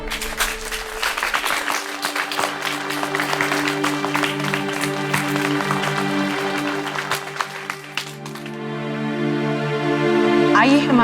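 Applause from an award ceremony audience welcoming the chief guest, a sustained wash of clapping over music that swells and fades near the end.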